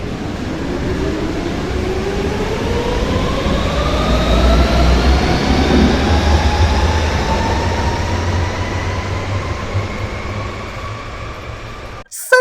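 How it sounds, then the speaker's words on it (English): An old Berlin U-Bahn subway train runs loud and close, its motors whining in rising tones as it accelerates over a rumbling rail bed, ending with a brief sharp clunk. "And now let's take a look at the Berlin U-Bahn."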